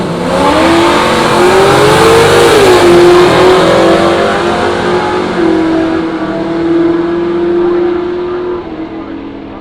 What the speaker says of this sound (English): but these cars are fast. Fast for street cars.